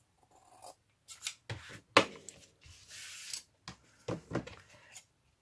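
Scissors snipping through a slim junk journal cover in a series of short, close crisp cuts and rustles, separated by brief pauses.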